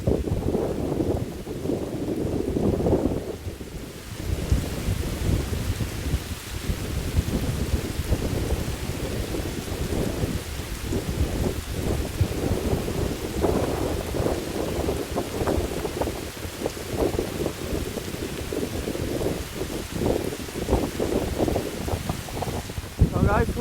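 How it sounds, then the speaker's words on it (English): Heavy rain pours during a hike through Scandinavian wilderness, a dense loud roar of water with gusting wind rumbling against the microphone, continuous and close throughout. "What a nightmare of the rain and everything."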